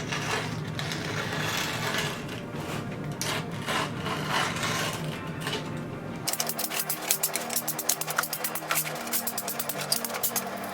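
Skateboard grip tape edge being sanded with an abrasive against the deck, giving a steady close rasping scrape that turns into quicker, rhythmic rubbing strokes partway through, with no talk.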